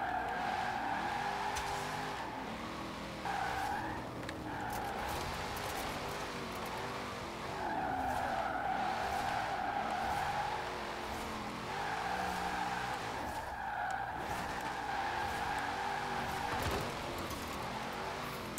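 A Formula Drift car in the game Forza Horizon 4 slides through long, steady tire squeals over a revving engine, the screech rising and falling continuously and close up, with no voices.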